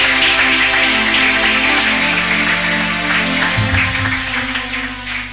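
A church congregation claps together in steady, dense applause that holds loud for several seconds, then eases a little, with sustained musical or sung tones over it.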